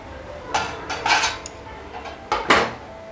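Metal lid clanks and scrapes off a pan of egg roast masala in a few short bursts, close and fairly loud, with quiet pauses between and no voices.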